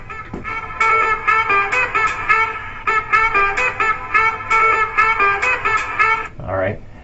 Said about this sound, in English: but the saxophone obviously sounds like this.